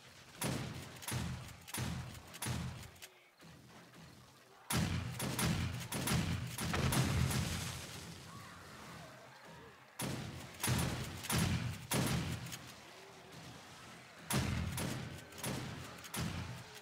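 Repeated bursts of rapid gunfire in the zombie survival game 7 Days to Die (Alpha 16) during a horde attack, sounding in clusters of sharp shots separated by short pauses.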